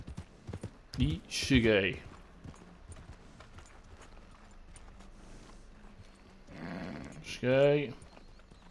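Horse hooves clop on the ground in Red Dead Redemption 2, fairly soft under someone speaking Portuguese.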